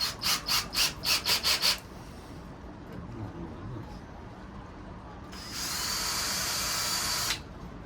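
A short burst of pulsing drill whine while drilling a small pilot hole, a quieter stretch of faint handling noise, then a steady, higher drill run that stops abruptly.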